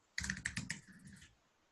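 A burst of quick, crisp keystrokes on a computer keyboard, close and distinct, about a second of rapid clicking that tapers off into quiet.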